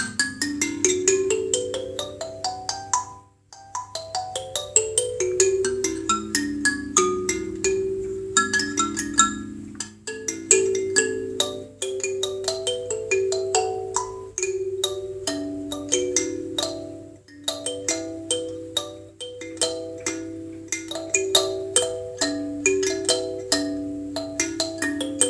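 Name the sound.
homemade box kalimba being played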